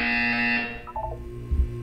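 A buzzer in the video game Portal 2, a short electronic buzzing tone lasting under a second, then fading into a few faint tonal blips and a low thump, close and clear without speech.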